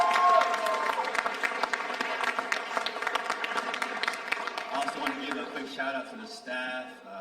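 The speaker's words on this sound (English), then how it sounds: "Let's give them one round of applause like that." An audience claps for student performers at a school arts event, a bright patter of applause over music in the background, with some voices mixed in before it thins out near the end.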